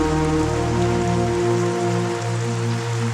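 Heavy rain pours down steadily and loudly throughout, with a constant low hum running beneath it and no voices.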